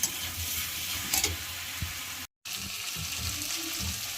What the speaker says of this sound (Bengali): এবারে এটার মধ্যে গরম জল দিয়ে দেবো।